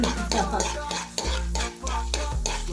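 Urad dal and cashew pieces frying in ghee, a bright steady sizzle with repeated brisk stirring strokes scraping the pan and a low hum beneath, close up and without speech.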